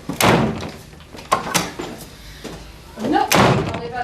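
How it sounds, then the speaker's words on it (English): Heavy thuds of a door being slammed shut in a family home with six sons, several loud bangs spread across a few seconds amid shouting and an argument between parent and child. "You're not slamming the door."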